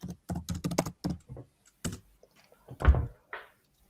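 Quick bursts of typing on a computer keyboard during a live coding session: a fast run of crisp key clicks, a pause, then a few isolated heavier taps, close and fairly quiet.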